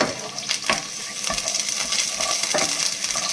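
Peeled garlic sizzles in hot oil in a pan with a steady frying hiss, punctuated by a few clinks of a stirring spoon, close and alone.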